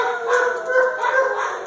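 Dogs in a crowded shelter dog room, a steady wash of overlapping barks and yips with no clear gaps, moderately loud and echoing in an enclosed space.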